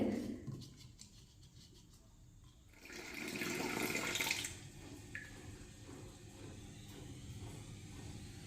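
Water splashing and sloshing as turkey berries are rinsed, with a louder rush of running water in the middle, then softer swishing and dripping.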